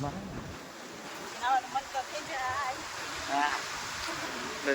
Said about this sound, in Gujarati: દરિયાનો અવાજ આવે ભાઈ